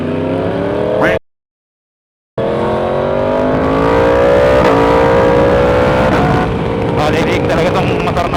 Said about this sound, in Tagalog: Balilig talaga tong motor na to eh.